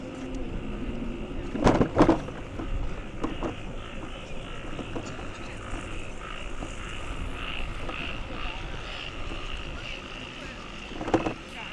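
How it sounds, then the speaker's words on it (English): Frogs croak steadily in a loud outdoor chorus, with a few sharp thumps and brief bursts of activity standing out against the constant calling. "You can hear all the frogs croaking."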